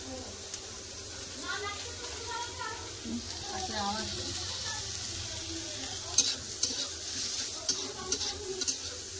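Snake gourd fries in a pan with a soft, steady sizzle, and a voice talks over it, with a few sharper crackles toward the end.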